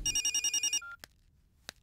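A telephone rings with a rapid electronic trill that stops abruptly, followed by two sharp clicks in the quiet.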